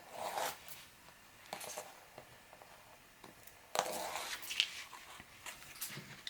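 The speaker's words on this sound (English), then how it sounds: "now we are going to remove our tape backing" Tape backing is peeled off a 6x6 mini album in a few short, crackly rips and rustles, close and fairly quiet, with small handling noises between them and no talking.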